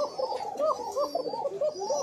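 A red male Koka pigeon cooing close by, a run of rapid, rolling, warbling coos repeated in quick succession, clear and fairly loud, with no talk over it.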